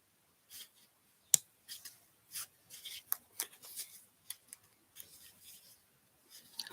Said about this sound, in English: And folding it along that vertical line.